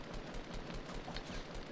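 Rapid gunfire from a Fortnite match crackles in a dense, continuous burst with no talk over it, sounding like weapons firing at close range during a fight.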